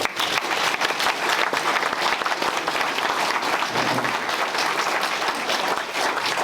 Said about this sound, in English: A big round of applause for both the candidates.